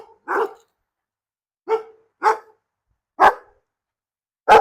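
Dogs bark in five separate sharp bursts spaced irregularly with silence between them, loud and fairly close, and no one talks.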